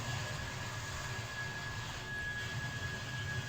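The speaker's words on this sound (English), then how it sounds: "There's a plane coming in." Airplane coming in toward Gatwick Airport in a Train Simulator game on the Brighton Main Line, a steady jet-engine roar with a whine, constant and fairly loud throughout.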